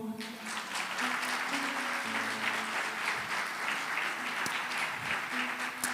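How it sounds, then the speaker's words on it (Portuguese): A church congregation applauds during a Portuguese-language sermon, with a steady wash of clapping throughout that sounds moderately distant and has faint tones beneath it. "Aplauda o nome do Senhor."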